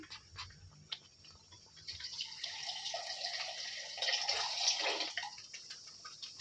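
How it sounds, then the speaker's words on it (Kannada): Water is poured into a pan of egg gravy, a faint trickle that swells into a fuller splashing pour for a few seconds before tapering off, quiet and close. "ಇದರಲ್ಲಿರೋದನ್ನೆಲ್ಲ ಸ್ವಲ್ಪ ನೀರು ಮಿಕ್ಸ್ ಮಾಡ್ಕೊಂಡು ಹಾಕೋಣ"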